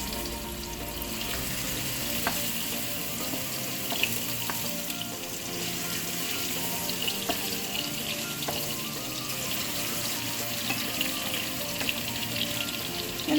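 Beef patties for Filipino burger steak sizzle steadily in a hot pan, a continuous crackling fry with faint clinks and kitchen clatter, no talking.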